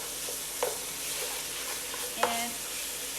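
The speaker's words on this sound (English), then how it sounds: "I'm gonna already go ahead and put the meat so that it can go ahead and start cooking with the bacon" Ground meat cooking with bacon in a pan gives a steady, even sizzle close by, broken by a couple of brief utensil clicks, with no voices.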